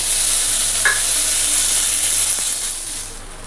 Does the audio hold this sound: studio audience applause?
no